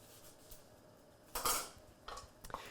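Chopped vegetables, red pepper and onion, clatter into two metal cooking pans in a couple of quick bright scrapes and clinks, close and fairly quiet in a still kitchen.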